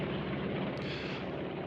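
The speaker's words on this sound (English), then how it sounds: "a Mosquito weather plane was dispatched to scout the German skies." A WWII de Havilland Mosquito weather plane drones steadily overhead, a dense, unbroken roar of piston engines and propellers that holds at an even level throughout with no voices.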